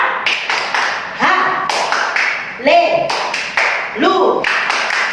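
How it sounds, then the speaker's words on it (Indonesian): Children in a young kids' church class clap along to the Tepuk Haleluya clapping song, sharp rhythmic bursts of claps mixed with lively chanting voices. "Kita bertepuk tangan dulu."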